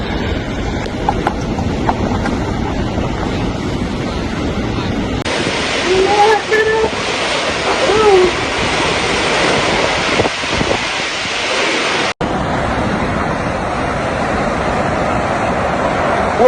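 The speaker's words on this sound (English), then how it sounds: "The sea has burst the bank." Heavy surf from Hurricane Beryl in Jamaica, the sea breaking over a coastal main road as a loud, constant roar of crashing water with strong wind buffeting the microphone.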